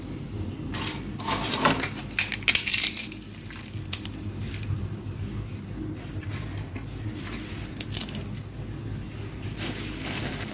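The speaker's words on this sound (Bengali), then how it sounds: "পাঁপড়গুলিকে একদম ভেঙে দিয়ে দিচ্ছি।" Papad crackers are crushed and broken by hand into a dish, giving close, brittle crackling and snapping bursts that come irregularly and then fade into quieter rustling, with no talk.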